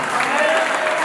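Wedding audience at a Christian marriage in Italy clapping together, a dense, steady burst of applause lasting about a second with a voice calling out over it.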